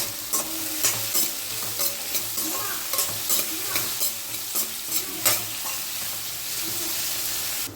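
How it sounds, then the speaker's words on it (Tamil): Salted onions sautéing in a pan, a steady close sizzle broken by a regular rhythm of spoon scrapes and taps from repeated stirring. "சால்ட் போட்டால் கொஞ்சம் டக்குன்னு வதங்கிடும் வெங்காயம்"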